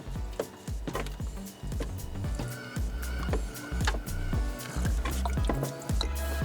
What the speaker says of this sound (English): once you take these hoses off, you're going to start leaking fluid.